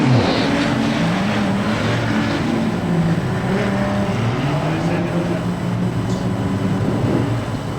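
Street stock race cars roar away together from a standing start at a raceway, a steady loud engine drone with shifting tones sustained throughout, with a faint commentator's voice underneath.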